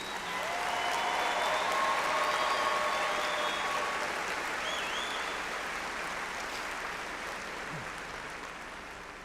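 A large commencement crowd gives a sustained round of applause for doctoral graduates, dense clapping that swells early and then slowly tapers off over about nine seconds, with faint whoops and voices mixed in.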